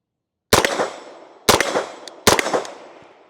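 Three sharp, loud gunshots from a Sig submachine gun fired in semi-automatic mode ring out with uneven spacing, each crack followed by a short echoing tail, with no talking.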